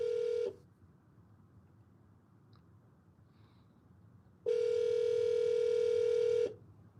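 An outgoing phone call tone during a live call-in broadcast: two long, loud steady tones, one brief at the start and one lasting about two seconds near the end, separated by quiet line hiss, with no ringing heard.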